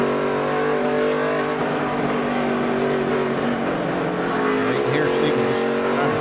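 NASCAR race cars roar around the track, engines droning loudly and steadily throughout with rising and falling revs, while a commentator talks over the racing.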